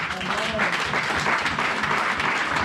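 A church congregation applauds and cheers in acclaim of Jesus Christ during a fasting-and-prayer sermon, a steady, dense wash of clapping that holds for a couple of seconds with voices mixed in.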